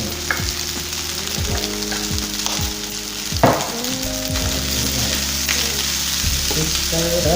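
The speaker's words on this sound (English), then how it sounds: "Just stir it up really good here." Rice tossed and stir-fried with Spam in a hot pan, a loud continuous sizzle under repeated scraping and knocking strokes of a spatula, close up, with a steady low hum beneath and no talk.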